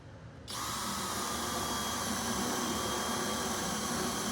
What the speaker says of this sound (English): follow the line with my jigsaw